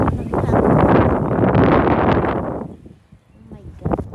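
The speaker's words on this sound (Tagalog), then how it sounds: "Sobrang lakas ng hangin." Very strong wind buffets the microphone outdoors, a loud broadband rumble for the first two and a half seconds that drops away briefly and then gusts again; people talk under it.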